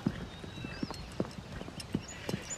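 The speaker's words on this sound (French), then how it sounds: "Quel magnifique cheval." Horse hooves clip-clop in a steady walking rhythm, six or so distinct knocks over a short stretch, fairly faint with a quiet background.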